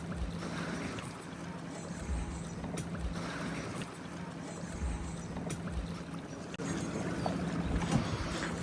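A speed boat runs at full throttle on the water in Lübeck, Germany, giving a continuous engine drone mixed with wind rush and water noise, steady and fairly loud throughout.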